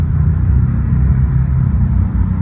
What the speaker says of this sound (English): You can see the cars driving